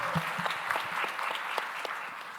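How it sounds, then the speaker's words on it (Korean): At a Sunday youth church service, a congregation claps together. The applause is scattered and moderately faint, with uneven rapid claps and no voices over it. "우리 박수로 서로의 삶을 응원하며 축복하겠습니다"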